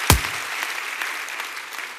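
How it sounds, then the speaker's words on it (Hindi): Audience applause at an LIC agency event, a moderate burst of clapping that continues evenly after a sharp opening thump. "जोरदार तालियां महेंद्र जी के लिए"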